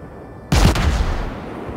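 A warship fires HE shells in the naval game World of Warships: after a brief quiet hum comes one sudden, loud, booming cannon blast that rolls off into a rumbling decay.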